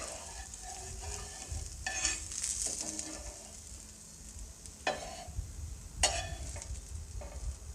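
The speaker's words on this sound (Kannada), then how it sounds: "ಟೊಮೊಟೊ ದೋಸೆನ ಹಾಕ್ಕೊಂಡ್ಮೇಲೆ ಒಂದು ಟೇಬಲ್ ಸ್ಪೂನ್ ಅಷ್ಟು ಎಣ್ಣೆನ ಹಾಕ್ಕೊಳ್ಳಿ" Tomato dosa cooking in about a tablespoon of oil on a pan, a quiet steady sizzle broken by several sharp scraping and tapping strokes of a spatula; no talking.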